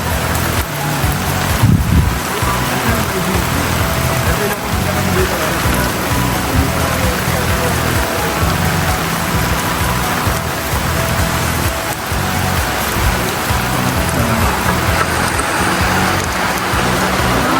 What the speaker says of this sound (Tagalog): Ang ulan, no?